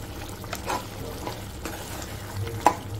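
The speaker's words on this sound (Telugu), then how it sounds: "మంచిగా కలపాలి." Mutton curry stirred in a pan after coriander powder is added, giving soft scraping strokes and a low simmering sizzle, with a few sharper scrapes and no talking.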